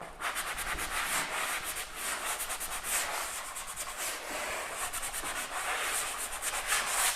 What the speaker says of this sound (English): I'm just going to use a 3M sanding block, okay, and we're just going to give it a really light sand